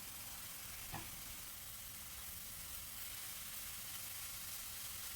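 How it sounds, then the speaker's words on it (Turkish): Carrots fry in oil in a pan with a faint, steady sizzle and hiss throughout, and one brief stir-like tap near the start. "Havuçlar ölene kadar yaklaşık 4-5 dakika kavuralım."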